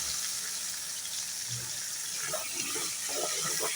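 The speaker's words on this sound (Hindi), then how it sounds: "हल्का सा पानी," A little water is poured into a pan of frying red spice masala for a raw mango curry, making a soft, steady hissing wash of sound close by.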